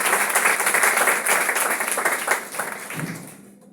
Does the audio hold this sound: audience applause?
yes